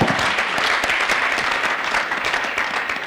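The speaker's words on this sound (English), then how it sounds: "Our chief guest deserves a bigger clap than that." Applause rising for the chief guest at a higher education exhibition in Uganda, a steady, dense wash of clapping that runs unbroken and fairly loud throughout, with no speech over it.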